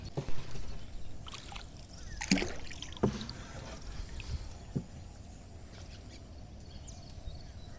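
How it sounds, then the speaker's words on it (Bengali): A fishing boat moves along a foggy river, with oar or hull knocks, water sloshing and gurgling, and a few sharper thuds over a low steady background. "নদীর মাঝখানেই তো কেবল মাছ মারতে যাচ্ছি নৌকা নিয়ে"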